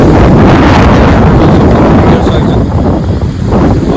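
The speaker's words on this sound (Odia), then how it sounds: "ଥଣ୍ଡା ପବନ" Cold wind gusts steadily against the microphone outdoors, a loud, continuous roaring rumble that barely eases across the whole stretch.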